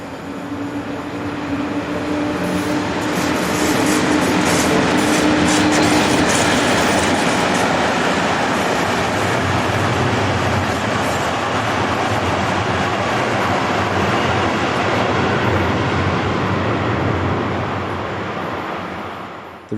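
A DB class 143 electric locomotive in original livery pulls a stopping passenger train out of Leymen station, a loud, close, steady rolling roar with a brief tonal hum early on, swelling then slowly fading as it passes.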